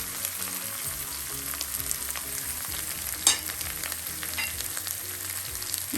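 Onions sauté in a pan with ginger garlic paste and spices for a roadside mushroom kaalaan dish, giving a steady, close sizzle and frying hiss with a brief louder crackle midway. No voices are heard.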